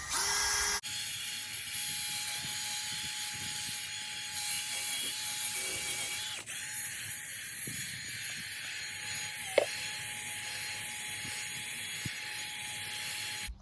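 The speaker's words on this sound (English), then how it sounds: "then start using the drill" Steady mechanical whir of a drill running with a polishing pad on the paint of a 2008 Ford F-150, continuous and moderately close, with a few small clicks and knocks and no talk.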